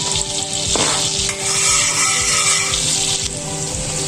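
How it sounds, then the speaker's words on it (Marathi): Finely chopped green chili dropped into a spoonful of butter and oil in a pan for butter chicken, giving a steady close sizzle and crackle that swells briefly partway through and holds throughout. "इथे मी एक चमचा तेल घेतलेला आहे आणि आपण याच्यात टाकतोय बटर साधारण एक चमचा इथे मी टाकतोय एक बारीक केलेली मिरची"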